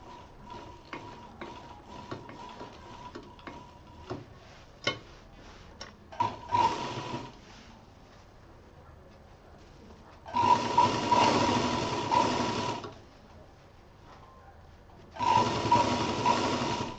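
A sewing machine stitches fabric piping with a cord tucked inside, running in three steady whirring bursts of a few seconds each, separated by quieter handling taps and pauses.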